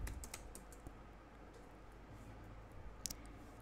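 Soft, quick keystrokes on a computer keyboard, irregular little bursts of clicks at low volume with no talking.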